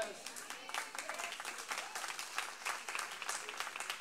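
Church congregation applauding during a Spanish-language sermon, a quiet, fairly thin patter of clapping from the room that stays steady and distant for a few seconds without building much.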